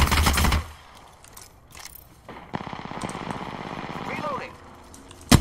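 Enemy gunfire in the game Apex Legends: a burst of rapid automatic shots opens loudly, then a rattling run of fire returns later amid game noise, with a player talking over part of it.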